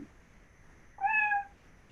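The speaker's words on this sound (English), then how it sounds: "Cat meowing." Synthesized cat meow preset from a Yamaha DD9 drum machine: one short tonal meow lasting about half a second, fairly clear and alone against low background hiss.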